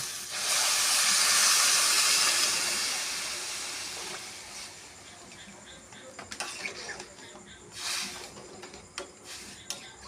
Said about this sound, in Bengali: এখন আমি পরিমাণ মতন জল দেব।